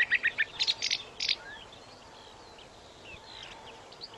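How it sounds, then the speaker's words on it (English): A song thrush sings outdoors, delivering a few short, bright phrases repeated in quick succession, fairly close and clear, followed by fainter chirps and a quiet ambient background. "Now, the song thrush repeats itself."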